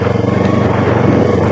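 Motorcycle styled like a Street Fighter passing near a mall, a steady loud engine drone holding throughout without pause.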